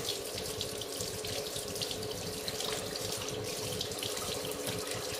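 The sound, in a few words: rinsing homemade butter under running tap water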